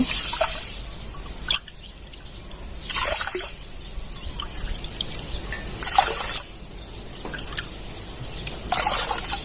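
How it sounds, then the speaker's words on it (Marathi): Water is poured into a pot to make sugar syrup for paneer gulab jamun, heard as short splashing and trickling bursts with pauses between them and no talk. "तर इथं मी बघा पाणी घालून घेते"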